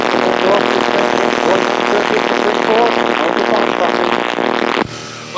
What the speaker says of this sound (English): Still picking up the engine noise.